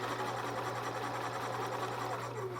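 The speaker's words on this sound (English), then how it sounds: "So we are going to go ahead and sew down that triangle." A home sewing machine stitches down a quilt triangle with a 1/4 inch foot, a steady fast motor hum and needle chatter running continuously at low volume.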